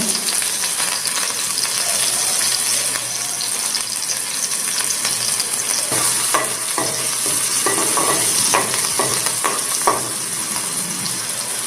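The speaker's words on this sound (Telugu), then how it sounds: "ముందుగా మిర్చి వేసుకోవాలి." Chillies sizzle steadily in hot oil in a pan for poha, with a run of light metallic scrapes and clinks as a spoon stirs them midway, all close up.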